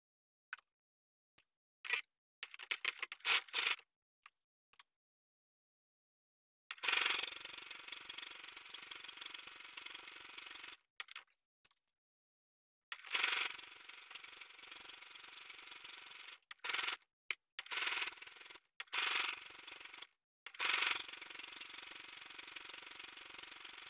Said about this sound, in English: And now I'm going to sew between this cut edge all around the pocket.